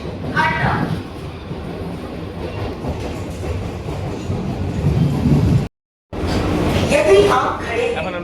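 Inside a Sealdah-Kalyani AC local train on its opening run, a steady rolling rumble and rail clatter fill the carriage at moderate loudness, briefly cutting out before continuing, with faint voices mixed in.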